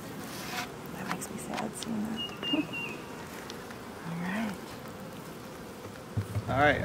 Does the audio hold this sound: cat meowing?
no